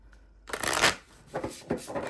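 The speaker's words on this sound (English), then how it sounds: "We'll shuffle it." A tarot deck being shuffled close up: one long riffle followed by two shorter bursts of flicking cards.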